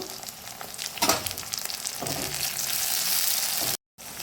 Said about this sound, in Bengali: এইবার আমি টমেটোটাও কিছুক্ষণ ভেজে নেব।